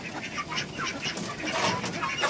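Several ducks quack and chatter continuously at close range outdoors at a small zoo during feeding time, overlapping calls with no clear pause and no one talking.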